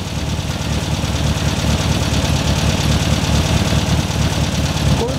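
An air-cooled VW Beetle engine idles steadily at a fast, raised speed, its loud even chugging running throughout with no talk over it.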